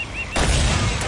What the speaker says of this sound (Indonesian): Wih, wah, ada yang nembak-nembak